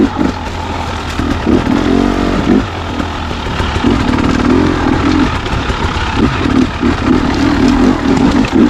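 Motorcycle fitted with an aftermarket Nicecnc headlight on a night test ride, engine droning loud and steady throughout with repeated swells as the throttle opens and eases, plus rumbling wind and road noise.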